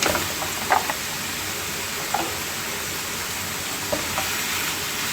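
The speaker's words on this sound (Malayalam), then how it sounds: "നമുക്ക് അതിൻ്റെ അകത്തേക്ക് ഈ വെച്ചിരിക്കുന്ന നമ്മുടെ മിൻസ്ഡ് മീറ്റ് ഇട്ട് കൊടുക്കാം." Minced meat sizzles steadily in a hot pan for shepherd's pie, with a few soft scrapes of stirring standing out over the constant frying hiss, close and alone.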